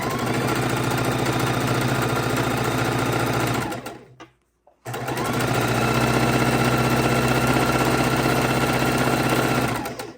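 A sewing machine stitches jelly roll quilt strips at a quarter-inch seam, running loud and steady at high speed. Its motor hum is continuous, with a brief stop near the middle before it starts up again.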